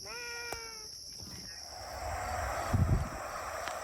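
A cat meows a couple of times, close and fairly clear, with a steady high insect-like whine in the background.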